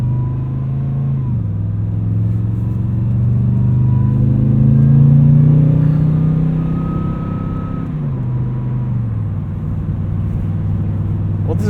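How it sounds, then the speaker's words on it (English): Supercharged V8 in a 2015 Toyota Tundra TRD Pro pickup driving along, a loud steady engine drone and road rumble heard from inside, rising in pitch as it accelerates and then settling back as a gear changes. "never driven a supercharged V8 from Toyota"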